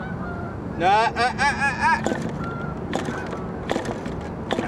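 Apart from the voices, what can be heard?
geese honking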